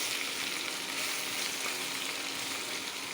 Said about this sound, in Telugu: వేగినాక ఇలా వేగుతూ ఉంటుంది కదా.